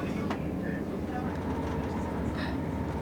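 Interior of a passenger train on the Derwent Valley line near Cromford station, a steady low rumble with faint squeaks and rattles. Someone talks quietly over it.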